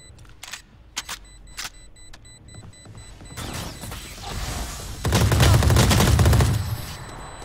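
Trackmania gunfire: a few sharp single shots, then a dense rapid burst of automatic fire with mechanical clatter, fading at the end.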